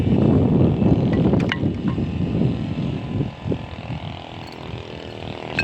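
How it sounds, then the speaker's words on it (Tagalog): Strong wind roaring and rumbling against the microphone, loud at first and easing slightly, with no talking. "So, malakas ang hangin."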